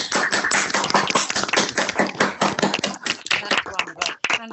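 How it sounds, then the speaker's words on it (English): A small group clapping, a quick patter of hands that fades out after a few seconds. "an embodied round of applause rather than simply a silent one"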